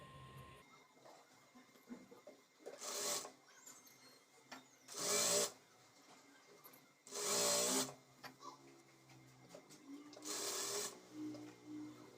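A sewing machine stitches chudi top fabric pieces in four separate bursts of rapid whirring, each lasting about a second with quiet handling sounds between them.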